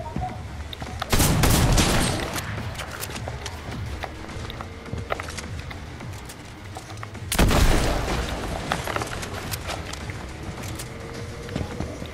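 Drum shotgun fire in a Fortnite match: two loud, broadband blasts about six seconds apart, each trailing off, over a constant busy backdrop of game noise.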